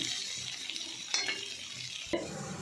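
Greens frying with garlic in a pan, a steady sizzle broken by scraping stirs and a couple of sharp utensil knocks against the pan, no talking.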